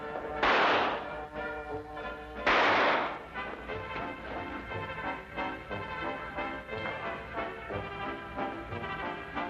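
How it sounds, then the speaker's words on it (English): Gunshots in a Sherlock Holmes radio drama, two loud sharp bursts close together near the start, each with a short decay, followed by lower background sound and music. "Fire it, Holmes"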